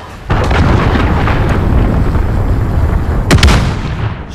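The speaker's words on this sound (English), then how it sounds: "Enemy cruise missile incoming" Enemy cruise missile explosions in Call of Duty: Modern Warfare: a loud blast erupts suddenly and rolls into a dense, rumbling barrage, with another sharp impact near the end.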